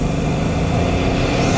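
A Bugatti supercar's engine roars loud and close in a steady sustained drone, with a rising high whine running over it for the whole short stretch and no speech.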